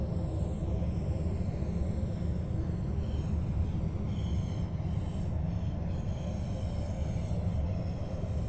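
A train runs into Luzern on the Luzern–Sursee line in Train Sim World 2, a steady rumbling roll of wheels on track with faint squeals and a low continuous hum.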